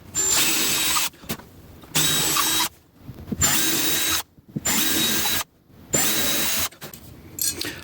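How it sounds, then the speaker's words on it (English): Power drill boring holes into a bathroom wall for butterfly anchors, four loud close bursts of whining drilling about a second each, separated by short pauses with faint handling noise. "I am drilling out the holes in the pre-marked spots above and below that will fit those butterfly anchors for behind the wall"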